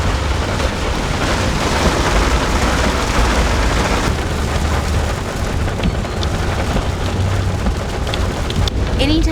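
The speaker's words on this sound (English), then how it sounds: "it has officially started raining pretty hard. And the lightning is crazy." Heavy rain pours steadily and loudly throughout, heard from a roadside during a storm with lightning, with a deep rumble of thunder rolling underneath the constant downpour.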